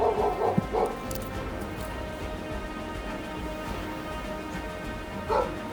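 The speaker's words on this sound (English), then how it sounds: "There's dogs!" Dogs barking in short bursts near the start and again near the end over a steady background hiss like rain, with voices faintly present.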